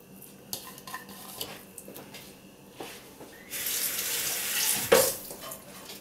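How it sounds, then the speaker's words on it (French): Kitchen sink sounds: a few clinks of pans and cutlery, then a tap opens and water runs steadily into a pan for a couple of seconds, close and moderately loud. "Je vais mettre environ 3 cuillères à soupe d'eau et je vais remettre sur le feu environ 20 minutes."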